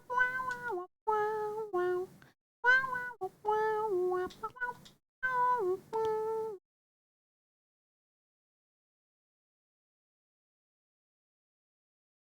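A cartoon cat in a video game meows repeatedly, six or so clear bright calls in quick succession, close and loud, followed by a long silence.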